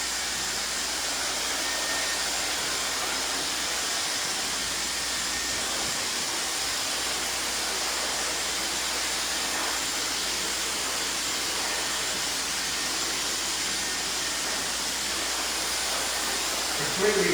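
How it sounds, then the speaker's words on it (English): A hair dryer blast-drying freshly cut short layered hair, a loud, steady whooshing roar that runs unbroken throughout, close to the listener. "now what we're going to do is begin to dry the hair"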